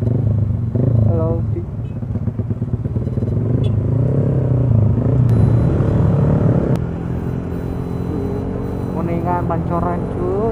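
A Honda Vario 170cc scooter rides at night through Jakarta with the throttle held open, its engine a steady close drone under wind rush, with brief tonal whines from nearby traffic.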